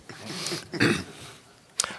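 A man coughs a couple of times close to the microphone, with a short sharp cough following after a brief pause.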